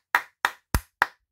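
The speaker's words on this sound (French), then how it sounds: "suivi de mes applaudissements." One person claps four times, evenly spaced single hand claps, close and crisp against silence.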